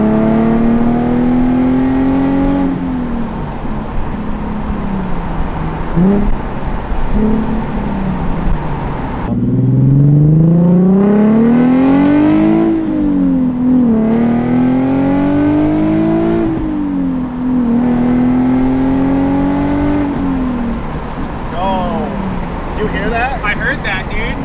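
Nissan 370Z with a Tomei Expreme Ti titanium exhaust revving through downshifts while driving, loud rising and falling engine tones with sharp revs, heard from inside the car as people talk over it.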